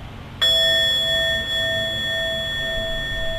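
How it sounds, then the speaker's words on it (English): A single meditation bell struck once to close a practice, a clear bright ring with sustained pure tones that hang and slowly fade over several seconds, with no voices. "I'll ring the bell"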